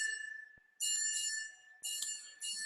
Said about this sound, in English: The bell is just ringing over and over and over again